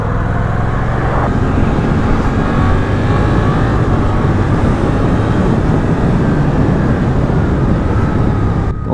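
Suzuki GSX-8S motorcycle from 2023, its engine droning and revving steadily at close range with a rising tone near the start, loud and continuous without any talk.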